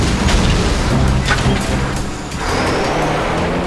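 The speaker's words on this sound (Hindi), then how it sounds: "ब्लू पल्स गन आक्रमण!" A blue pulse gun fires an attack blast in an animated cartoon, heard as a loud, sustained rumbling roar with a booming low end that dips briefly before surging again.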